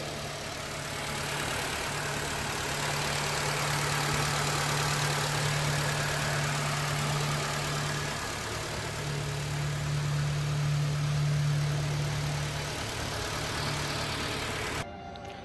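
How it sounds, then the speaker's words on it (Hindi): A Honda Amaze i-VTEC petrol engine in the 2023 S/SV manual variant idles steadily, a low even hum with a faint hint of knock that holds for about fifteen seconds, close by and with no one talking. "गाइस एक बार मैं आपको इंजन की नॉइज़ सुना देता हूँ।"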